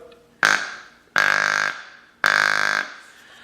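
Three loud, evenly spaced grunts from an open-reed deer call with the rubber ring rolled up one roll to imitate an immature buck, each a buzzy half-second blast standing alone without talk.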